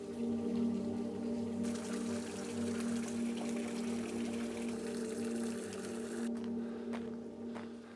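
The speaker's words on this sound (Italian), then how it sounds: "Questa è una fontana originale del 1912." Water pours steadily from an original 1912 fountain inside a large fortress gallery, running full after heavy rain. It makes a continuous, even rush with a low resonant hum, close and unbroken, with no voices.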